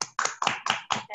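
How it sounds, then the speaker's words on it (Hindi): About five crisp, evenly spaced claps sound close and fairly quiet, a brief rhythmic clap for a presenter at a women's business training session. "उनके लिए जोरदार तालियां।"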